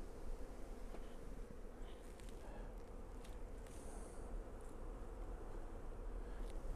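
Honey bees buzz steadily around open hive boxes during a swarm-control split, a dense, continuous droning hum close by with faint intermittent higher whines, no talking.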